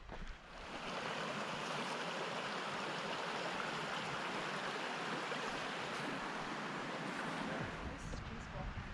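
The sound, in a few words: water running in a forest stream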